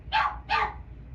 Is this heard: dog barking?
yes